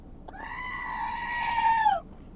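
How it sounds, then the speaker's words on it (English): A single goat in a waterside residential community gives one loud, drawn-out scream lasting nearly two seconds, close by over quiet background hiss. "Little goat scream for you to start the day."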